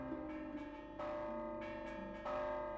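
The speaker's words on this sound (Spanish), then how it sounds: "la iglesia de Moros puede presumir, además, de conservar sus campanas y de disponer de un campanero que las ponga en movimiento" Church bells of the Moros parish church, swung by a bell ringer, ring out with several overlapping strikes, each leaving a long, humming resonance. The tolling sounds close and full, with no voices.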